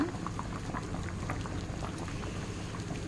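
A Kuwaiti-style chicken dish simmers in a covered pot as its water cooks down, giving a quiet, continuous bubbling and popping at close range, with no other sound.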